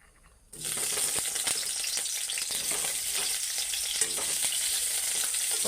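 Potatoes frying in oil: a steady, dense sizzle bursts in after half a second of quiet and crackles on loudly and evenly to the end, with no talk.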